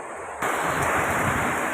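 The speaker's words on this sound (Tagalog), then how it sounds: "Malakas ang hangin. Mahangin po." Strong wind gusts rush and buffet loudly against the microphone in Barangay Calubcob, Silang, a broad roaring noise that kicks in abruptly and stays constant.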